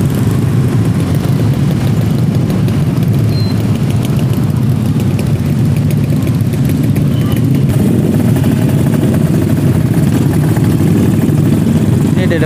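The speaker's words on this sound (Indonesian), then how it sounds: "Yang gak enaknya ini kalau macet kayak gini kita di belakang knalpot yang brong ya." A loud open-exhaust motorcycle idles close by in a night traffic jam, a thick, steady low rumble with no break, layered with the murmur of other stopped engines.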